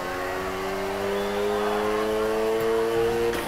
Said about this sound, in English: First up, let's hit a basic drift. Remember, slam on the gas and steer.